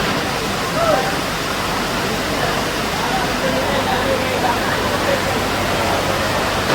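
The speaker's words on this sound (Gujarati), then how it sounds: "વરસાદ પડે છે ધોધ ધોધ ચાલુ થઈ ગયો હતો" Steady, dense rushing noise of heavy rain pouring down, continuous and loud throughout with no breaks.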